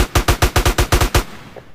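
Rapid burst of about nine loud, close gunshots in a GTA San Andreas DYOM mission, evenly spaced automatic fire that stops abruptly, with no talking.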